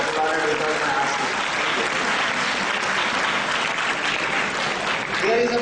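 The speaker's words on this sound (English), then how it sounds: "Thank God you applauded without my asking." A school audience in a lecture hall applauds continuously, a dense, even wash of clapping that holds steady before tapering slightly at the end, with no speech over it.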